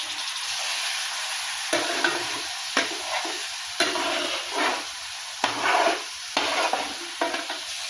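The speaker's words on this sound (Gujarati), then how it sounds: "મસાલામાંથી તેલ છૂટું પડે ત્યાં સુધી એને શેકી લેવાનું છે।" Masala for a paneer curry frying in oil, a loud close sizzle interrupted by repeated rhythmic scraping stirs of a spoon against the pan, no talk.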